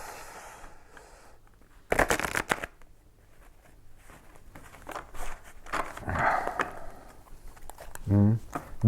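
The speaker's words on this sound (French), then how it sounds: "je vais quand même le mélanger comme ça" Oracle cards being shuffled by hand, with bursts of riffling and card slaps between quieter stretches, close and moderately loud, and a short voice near the end.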